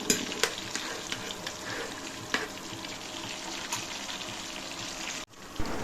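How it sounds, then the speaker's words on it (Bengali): Chopped onion sizzles and crackles in hot oil for a homemade herbal hair oil, with steady frying hiss and a few sharp scraping knocks as it is stirred, close and moderately loud, ending in an abrupt cutoff. "প্রথমে দিয়ে দিলাম পেঁয়াজ, এবং পেঁয়াজটা দিয়ে সামান্যক্ষণ নাড়তে থাকবো।"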